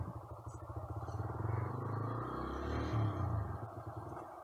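A Bajaj Freedom 125 CNG motorcycle pulls away in gear on the clutch alone, its engine a low, steady, throbbing rumble that swells slightly and then eases off.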